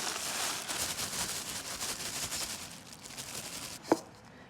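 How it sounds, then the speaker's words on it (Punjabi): Dried pheni vermicelli from Bhera, Sargodha, is crushed inside a kitchen chopper: a steady close crunchy rattle that ends with one sharp click, no talk. "ਇਹਨਾਂ ਨੂੰ ਅਸੀਂ ਛਾਪਰ ਦੇ ਅੰਦਰ ਹੀ ਕ੍ਰਸ਼ ਕਰ ਰਹੇ ਹਾਂ।"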